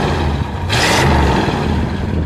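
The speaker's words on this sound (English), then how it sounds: "Go ahead, give it a rev" A 1961 Imperial Custom Southampton's engine revs up in a short burst with a hissing roar, then settles back to a steady rumbling idle.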